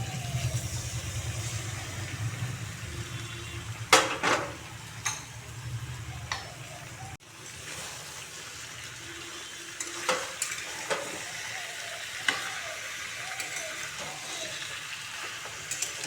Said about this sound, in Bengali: এখন এতে আমি চিকেনটা দিয়ে দিচ্ছি।